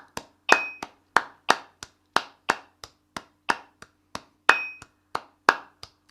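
Sharp hand claps in a quick triplet-quaver rhythm, about eighteen close, bright claps in steady groups, alone without voices.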